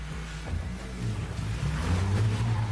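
A Fox Body Mustang driving in the video game Need for Speed 2015: a low, steady engine rumble with a pitch that rises gradually, heard alone at moderate loudness.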